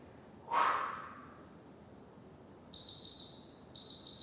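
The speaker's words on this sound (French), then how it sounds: "dès qu'on entend les prochains bips, on peut y aller" Workout interval timer beeps during a HIIT session: two bursts of rapid high electronic beeping near the end, loud and close, following a single heavy breath or snort, with no talking.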